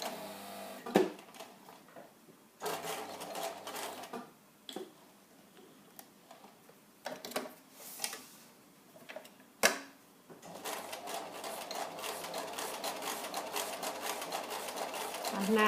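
A sewing machine stitches back and forth across the end of a zip in fabric, running in short bursts separated by pauses, with rapid ticking mechanical chatter up close.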